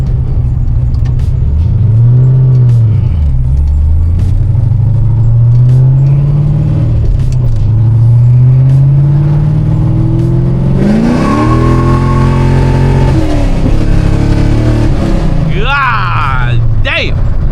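A JDM Corvette pulls hard in second gear, its engine note rising steadily in a loud, close roar that swells and dips through the run before a brief louder surge near the end.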